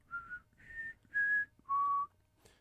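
A person whistles four short, clear tones, rising then falling, alone and fairly faint in a quiet room.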